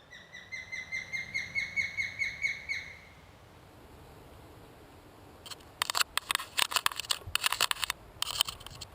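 A young female osprey at a rescue centre gives a rapid series of sharp, high chirping calls for about three seconds, followed by quiet and then scratching and scraping noises close by.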